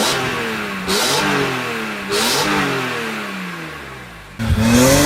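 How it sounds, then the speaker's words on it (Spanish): BMW E46 M3 with its naturally aspirated six-cylinder engine, 343 horsepower, revving hard through several rising pulls with brief gear-change drops between them, loud and close. "la canción que cantaba este 6 cilindros atmosférico no es una que puedas olvidar"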